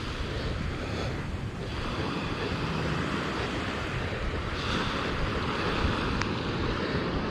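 Waves wash onto the shore at Tagas Boulevard in San Jose, Camarines Sur, a steady close rushing surf mixed with wind buffeting the microphone and no talking.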